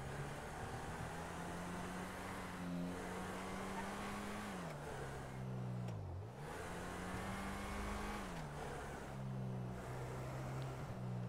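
Steady engine drone of a car driving in a GTA roleplay game, a continuous loud hum whose pitch rises and dips as the car speeds up and slows, running without a break throughout.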